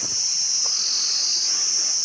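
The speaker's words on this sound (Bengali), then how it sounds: "ঝিঝি পোকার ডাকগুলো আমি শোনাতে পারছি।" Crickets chirp in daytime along the Silk Route in November, a steady, shrill, continuous drone that holds evenly throughout, loud and close, with no voices.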